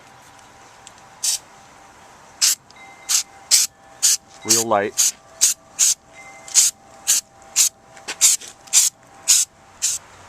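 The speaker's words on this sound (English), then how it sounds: "I'm going to spray on the rubber coating" Short bursts of hissing spray repeat in a quick rhythm, an aerosol can of rubber coating fired in pulses onto a 1978 Dodge RV, with a brief spoken remark partway through.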